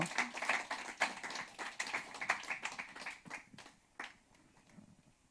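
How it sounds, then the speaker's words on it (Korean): Clapping from a church congregation welcoming someone forward, a burst of separate hand claps that thins out and fades to a few scattered claps. "큰 박수로 환영하겠습니다"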